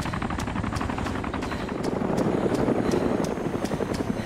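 A helicopter flies in the video game DayZ, its dense, loud rotor and engine roar steady and continuous with rhythmic blade chop throughout, nearby and unaccompanied by voices.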